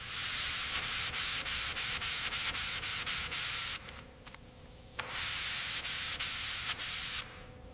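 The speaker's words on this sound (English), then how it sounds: "Sanded smooth, let's prime it again." Primer on a Mercedes S-Class body being sanded smooth by hand, rhythmic scratchy strokes repeating close up, with a brief quieter pause in the middle before the strokes resume.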